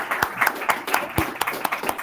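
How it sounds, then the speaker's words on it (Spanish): An auditorium audience gives a short, sparse round of applause, with individual claps distinct and uneven rather than a dense roar, a few sharper hand claps standing out close by. "El aplauso, por favor."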